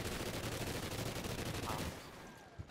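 Rapid automatic gunfire in Call of Duty: Ghosts, a dense continuous burst of shots that stops abruptly, followed by a quieter tail and a single faint thump.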